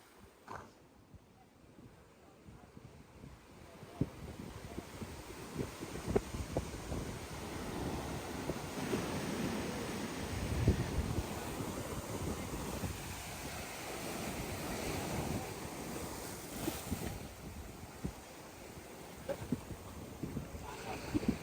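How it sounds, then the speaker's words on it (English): Surf breaking along Siridam beach in heavy rain, a broad steady wash of waves with gusting wind rumbling across the microphone, building after the first few seconds and staying loud throughout. "This is the Siridam beach."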